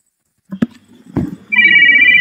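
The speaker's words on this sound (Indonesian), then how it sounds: "Hindari dulu bunyi-bunyi telepon di mana itu." A telephone rings with a bright, steady electronic tone that starts partway through, loud and close. A couple of short bumps and knocks come before it.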